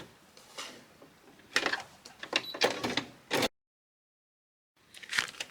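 A sewing machine stitching a fabric journal topper in short runs of rapid mechanical clatter, several bursts of whirring stitches broken by pauses, then a dead stop before one last brief burst, close and fairly quiet.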